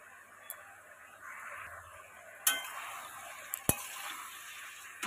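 Pumpkin stems and vegetables frying in a pan with salt, turmeric and chili powder, a steady soft sizzle with a few sharp spoon scrapes and taps against the pan, close and moderately quiet.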